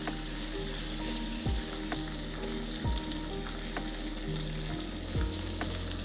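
A Wagyu steak sears in a hot pan just after being flipped, giving a loud, steady sizzle with a few sharp pops and crackles, heard alone with no talking.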